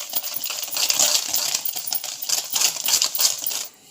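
Eggs being whisked with sugar in a bowl for a Konkani sweet, meethe ghawne, a fast steady clatter of whisk against the bowl going on continuously before stopping at the end.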